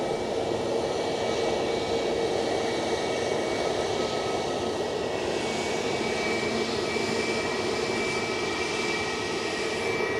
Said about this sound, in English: Yep, using all of that runway.